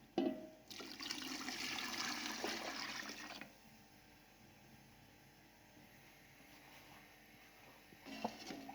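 Beef yakhni broth is poured from a container into a cooking pot of pulao with oil and meat, giving about three seconds of steady splashing pour. A quiet stretch with faint kitchen noise follows.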